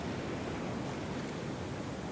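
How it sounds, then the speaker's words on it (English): Ocean surf washing against a rocky coastline at sunrise, a steady broad rush of waves with some wind, no voices. "I've got the waves crashing"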